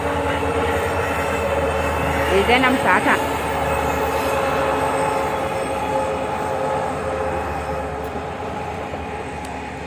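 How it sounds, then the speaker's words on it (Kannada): Steady rumbling roar of a train rolling past, with a brief metallic squeal; a voice speaks briefly over the noise. "ಟ್ರೈನ್ ಬೇರೆ ಇದೆ"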